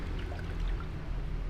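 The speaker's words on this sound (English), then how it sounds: "put in the water" Water pours into a pot for cooking peanuts, a continuous close splashing stream with no talk.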